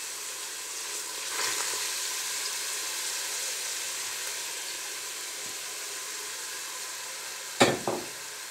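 Onions fry in a pan for a Moroccan lamb tagine, a steady broadband sizzle throughout with a brief stir near the start and a couple of sharp clatters near the end; no one speaks.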